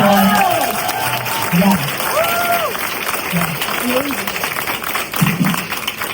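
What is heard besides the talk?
applause for Dr Omar at his retirement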